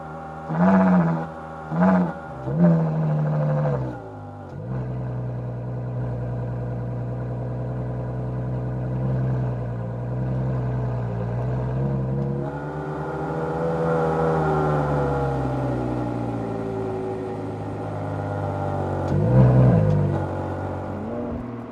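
A Ferrari SP3 and a Pagani Huayra racing, engines revving hard through a few sharp throttle blips, then settling into a long, loud, steady acceleration drone that swells and climbs before a final surge.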